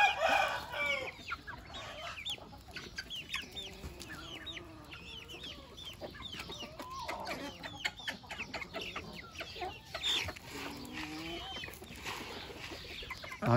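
Backyard chickens clucking and fussing over a midday feed of grain, a steady chorus of overlapping clucks and short calls, fairly close, with no talking.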